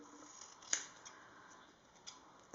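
Scissors trim a strip of double-sided tape with one faint, crisp snip followed by a few soft ticks in an otherwise quiet room.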